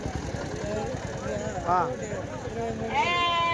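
Large male goats bleat at the Kadiri weekly livestock market, several wavering calls rising over a busy, noisy crowd with people talking nearby.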